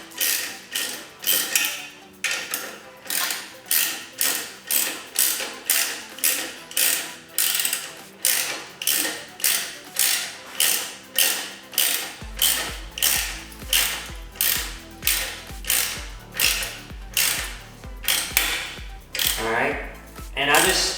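A hand ratchet tightening an exhaust clamp on a 2008 Honda CBR600RR, sharp clicking strokes in a steady regular rhythm close up, with a low hum joining partway through.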